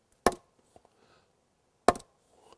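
Two sharp, isolated knocks of wood striking wood imitating a bull moose raking its antlers on a tree, a couple of seconds apart, with faint scraping between them and otherwise quiet surroundings.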